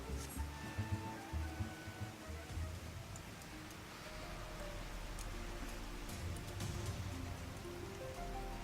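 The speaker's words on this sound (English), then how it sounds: "I love the rain effect in this game though, especially when it's like showers" Heavy rain shower in the video game Final Fantasy XIV, a soft, steady hiss of drops falling on surfaces, faint and continuous, with no voices.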